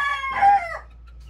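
A backyard rooster among chickens crows once, close and loud, with a short strained call that rises and trails off into quiet.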